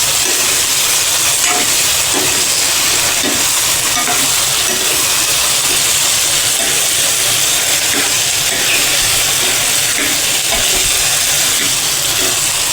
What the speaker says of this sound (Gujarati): આપણા બટેટા નખાઈ ગયા છે। હવે આપણે તેને હલાવીને મિક્સ કરી લઈશું।